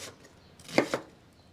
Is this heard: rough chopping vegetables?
yes